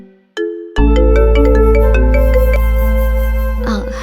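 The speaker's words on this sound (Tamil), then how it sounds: "புனிதாவே ஃபோன் பண்றாங்க." An incoming call sets off a phone ringtone: a bright melodic run of tones over a steady low hum, loud and close, lasting a few seconds with no talking.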